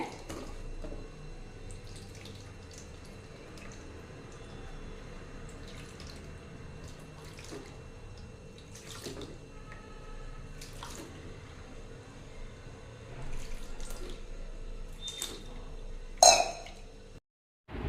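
Mushrooms, about two hundred grams, are washed in water at a kitchen sink, with soft splashing, trickling and sloshing close by, occasional louder rinses and a brief clatter near the end.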